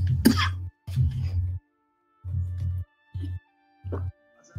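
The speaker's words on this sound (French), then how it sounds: "il suffit qu'on décide de lancer un enregistrement pour que je me mette à tousser" A man's coughing fit, several harsh coughs and throat-clearing bursts in uneven bouts separated by short pauses, close to the microphone with no talking.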